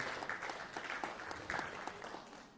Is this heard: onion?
no